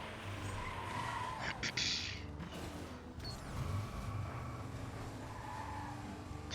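Cars skid with squealing tires in the video game Watch Dogs 2, a steady engine roar and tire screech running throughout at high level, with brief sharper bursts partway through.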